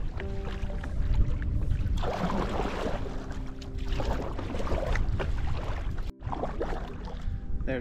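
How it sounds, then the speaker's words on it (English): Wind gusts and choppy waves slap against a small boat on an Adirondack lake, a continuous rushing wash with splashes and knocks throughout, loud and close. "Wind and waves have picked up"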